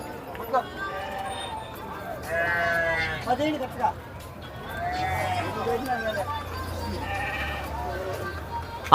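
Several pregnant sheep bleat repeatedly nearby at a livestock market, their wavering cries overlapping with people talking in the background.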